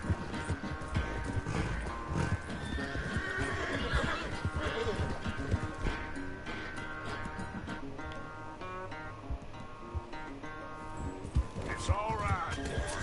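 In Red Dead Redemption 2, a horse whinnies and hooves clip-clop amid game music and effects, while someone talks over the action throughout.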